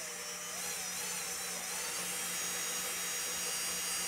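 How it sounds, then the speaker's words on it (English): An electric drill with a 7/32 bit bores into the wooden body of a cajon drum to fit a pickup, a continuous high whine held steadily for several seconds, close and alone. "So this next size drill bit I'm using is a 7/32"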